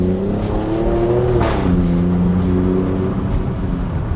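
Alfa Romeo Stelvio Quadrifoglio (2025) engine revving hard under acceleration, loud and close, rising tone dropping sharply at an upshift then climbing again in a steady continuous roar.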